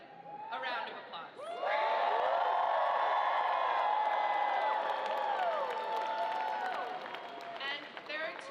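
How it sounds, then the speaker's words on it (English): A large indoor crowd applauds and cheers for someone being introduced, swelling into loud, sustained clapping with whoops and shouts that fade a little toward the end. "please join me in giving ZOHRAN, our friend, a round of applause"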